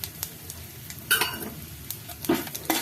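Dried red chillies, mustard seeds, cumin and fenugreek fry slowly in a pan for birakaya pottu pachadi, giving a light sizzle broken by a few sharp stirring scrapes and clinks, with no talk.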